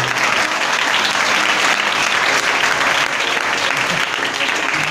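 Loud, dense applause from an audience at a Christian religious gathering, continuous clapping filling the whole stretch, close and steady.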